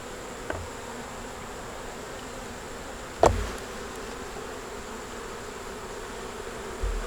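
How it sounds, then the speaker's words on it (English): Honeybees in an open hive being inspected, a steady low buzzing hum filling the background with a sharp knock partway through and faint handling sounds. "A lot of bees down here, people."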